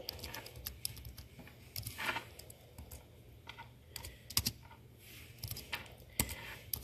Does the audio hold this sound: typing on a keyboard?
yes